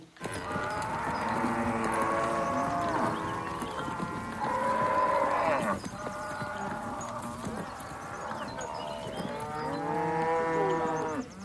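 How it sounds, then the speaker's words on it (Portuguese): A herd of common-breed recipient cows lowing repeatedly, several long overlapping moos close by, with faint hoof clops in the background. "Esse é um lote de vacas receptoras, né?"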